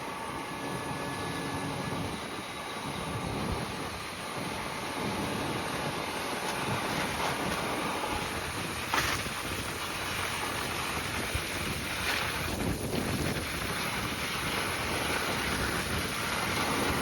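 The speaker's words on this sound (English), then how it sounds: "Sorry if that wind's coming through on the video. It's really picked up in the last half an hour." Strong wind buffets the microphone in continuous rumbling gusts on open farmland, drowning out the faint background sounds.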